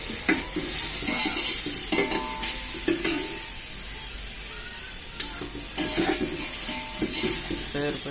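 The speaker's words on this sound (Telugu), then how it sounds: "బ్రౌన్ కలర్ వచ్చే వరకు వేగించుకొని కొంచెం అల్లం పేస్ట్ వేసుకోవాలి" Ginger paste fries in a pan for chicken dum biryani, with a close sizzle under repeated metallic scrapes and clinks of a spoon stirring against the pan, and no talking.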